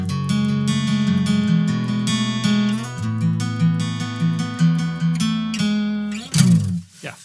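An electric guitar in standard tuning picks an intro riff, a close, steady run of ringing arpeggiated notes that ends in a sharp scrape and fade.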